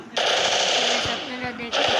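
Rapid automatic gunfire bursts from a shooter video game while lining up a headshot, loud and continuous with a short break before firing resumes, under faint voices.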